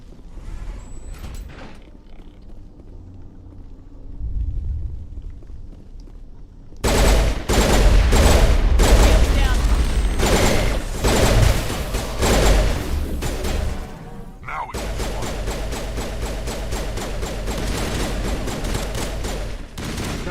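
Rapid bursts of automatic gunfire and explosive shots in the Mass Effect video game, loud and dense, with a sustained fusillade over the second half after a quieter opening.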